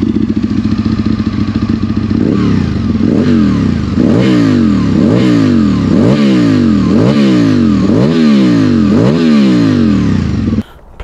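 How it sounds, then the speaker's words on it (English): Aprilia RSV Mille Haga motorcycle V-twin engine cranking and catching, then loud repeated revving: a steady run of rising and falling throttle blips roughly once per second, close and alone, cutting off abruptly at the end. "That is a typical Aprilia RSV startup."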